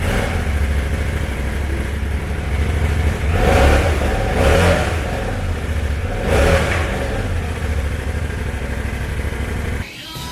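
Motorcycle engine running steadily with a couple of rising revs in the middle, loud and close, then cutting off abruptly near the end; no voices.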